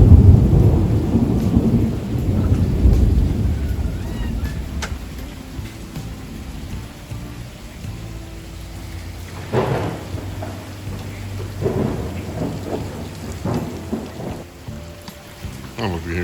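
Thunderstorm in Florida with steady rain and low, rolling thunder in the background, fairly loud at first and easing off, with a few sharper rumbles later and no talking.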